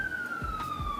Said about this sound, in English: Ambulance in the background killing me.